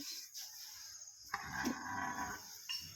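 A deep, drawn-out bellowing call from an elephant that sounds like a cow's moo, loud and close, rising midway and holding for over a second against background noise.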